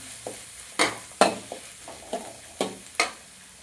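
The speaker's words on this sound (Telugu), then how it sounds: "క్యారెట్, కాలీఫ్లవర్ ఇలా మనము అన్ని ఆయిల్లో వేసుకోవాలండి. ఆయిల్లో వేసుకొని కాసేపు మగ్గించుకోవాలి." Carrot and cauliflower fry in oil in a pan, with a soft sizzle beneath repeated sharp stirring scrapes and knocks, roughly two per second, close by.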